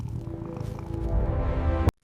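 A house cat purrs in a steady, continuous low rumble, close and moderately loud, alone without talk, cutting off abruptly near the end.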